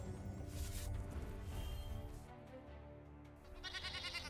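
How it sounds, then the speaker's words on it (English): Cartoonish goat bleat from a digital card game, rising over layered game music and effects, with a bright chiming sound toward the end. "Yeah, nice goat."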